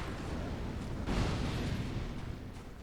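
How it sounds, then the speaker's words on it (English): A distant, muffled explosion in the video game Dark Souls 2 swells briefly out of a steady, noisy rumble of background ambience and then fades back into it. "Where was that explosion?"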